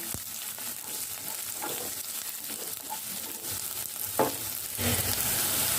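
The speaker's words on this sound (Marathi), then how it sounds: "आता कांदा हलकासा सॉफ्ट करून घ्यायचा आहे आपल्याला" Onion, garlic, ginger and green chili sizzle in hot oil for Hakka noodles, a continuous close frying hiss broken by occasional scraping stirs of the spatula, with the sizzle swelling louder near the end.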